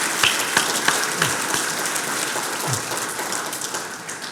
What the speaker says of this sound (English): And can we give a round of applause for Kathy?